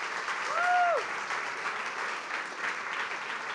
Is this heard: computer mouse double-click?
no